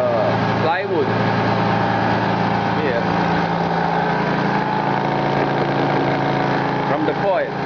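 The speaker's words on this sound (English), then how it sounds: "vibration you can hear is from the plywood." A large 25 hp AC motor runs steadily, its hum loud and close and mixed with a buzzing vibration from the plywood it sits on. The drone continues without a break, with a couple of brief swells in the sound.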